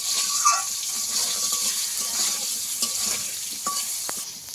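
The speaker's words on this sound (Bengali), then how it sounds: "দিয়ে আমি ভালো করে একদম আলুটাকে ভেজে নেব লাল লাল করে" Potato pieces fry in a pan for a Bengali aloo begun ilish fish curry, giving a steady loud sizzle with stirring scrapes throughout and no talking.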